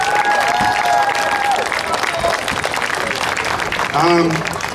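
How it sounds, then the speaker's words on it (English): Audience at an outdoor Moose Lake Blue Ribbon City ceremony claps and cheers steadily and loudly, a dense wash of applause that swells again near the end, with a whistle-like tone and a few voices mixed in. "So let's give Brad a big round of applause."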